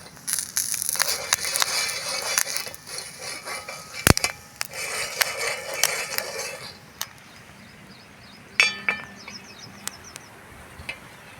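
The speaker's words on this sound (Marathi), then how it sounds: "पॉपकॉर्न व्हायला सुरुवात झालेली आहे" Corn kernels pop in a pan covered with a sieve, sharp cracks and crackles bursting irregularly and densely at first, then thinning out to scattered single pops.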